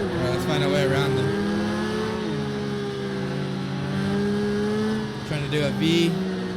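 A Porsche RSR GTE race car in a racing simulator howls at high revs, its engine tone climbing and dipping through gear changes, with brief tire and contact noises near the end.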